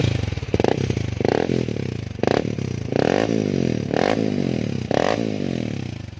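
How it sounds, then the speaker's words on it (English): A Honda Sonic 6-speed TOHC fuel-injected motorcycle with its stock exhaust bored out revs up close in repeated sharp blips, each rising and falling in pitch over a rough idle, with no talking. "ini Honda Sonic terbaru nih, 6 speed TOHC. Udah kita bobok nih knalpot orinya."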